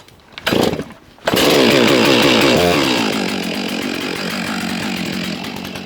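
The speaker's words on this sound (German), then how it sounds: "Ich werde sie natürlich kurz ein bisschen warm laufen lassen und dann sägen wir mal durch." A Stihl MS661 chainsaw starts after a couple of short pulls, then idles loudly and steadily while warming up, its engine drone holding close and continuous.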